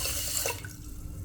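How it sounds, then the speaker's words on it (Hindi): Water pours from a vessel into a metal pan of sugar being made into syrup, a brief splashing gush that fades after about half a second, close and without talk. "अब मैं डालूँगी इसके अंदर पानी।"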